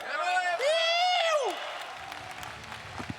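A crowd at a boxing event applauds and cheers for the new world champion: an announcer's drawn-out shout gives way to a steady wash of clapping and scattered whoops from the audience.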